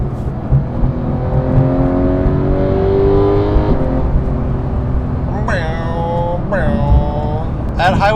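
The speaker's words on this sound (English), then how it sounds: "When you upshift, you get this nice pop out the back" A Porsche 911 GT3 of the 991.2 generation accelerates hard, its engine note climbing through the revs, with sharp exhaust pops on the upshifts and rising runs that repeat in quick succession.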